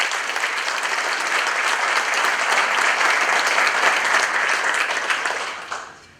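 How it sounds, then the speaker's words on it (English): Sustained applause from an audience at an SC Alliance meeting, a broad steady clapping roar that holds for about five seconds, then tapers off at the end. "I'd like to give them a round of applause for their work."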